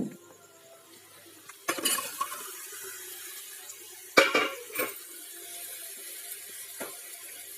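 Marinated chicken stirred into a pan of fried onion mixture for a chicken gravy: a low background hiss broken by several scraping, clattering stirs of utensil against pan, close, with a few louder knocks.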